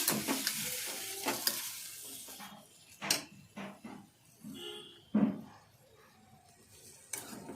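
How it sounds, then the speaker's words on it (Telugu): Green chillies and tamarind tossed together into a frying pan, a soft sizzle under irregular stirring and scraping clatter, close and moderately quiet, with no talk. "నేనైతే పచ్చిమిర్చి చింతపండు మొత్తం కలిపి ఒకేసారి వేసేస్తున్నాను"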